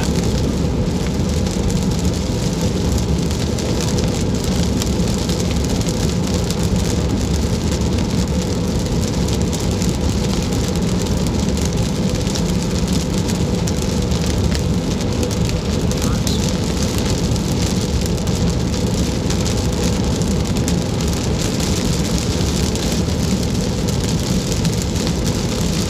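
Steady rain pours down in a nighttime driving video game, a dense continuous hiss lasting the whole stretch at an even level, with no voices over it.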